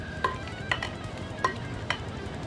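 Pineapple mango chutney with black and red pepper stirred in a pan, four distinct clinking strokes of a spoon against the pan at an even pace over a faint background hiss.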